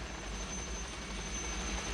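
Steady, loud drone of a helicopter in flight, with a constant low rotor throb and a high whine over it.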